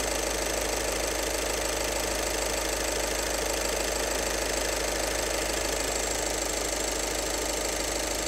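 A car engine idles during a differential pressure sensor check, giving a steady, even hum with a fine ticking rattle, constant in level with no speech.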